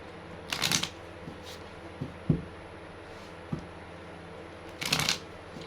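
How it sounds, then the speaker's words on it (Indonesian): A new tarot deck is shuffled by hand in quiet bursts, two riffling flurries with a few soft taps and thumps of the cards in between. "Kita kocok kartunya ya. Ini pakai kartu baru"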